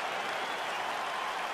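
Broad crowd noise rumbles through a virtual UFC 4 arena as a fight begins, a steady wash of cheering and clapping without distinct voices.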